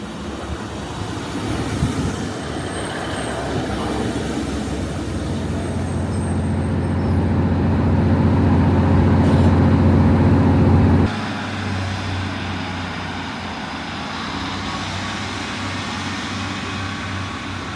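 A delayed Transport for Wales service running between Crewe and Shrewsbury, a steady low rumble building gradually, peaking around eleven seconds and then dropping to a quieter, even hum for the rest.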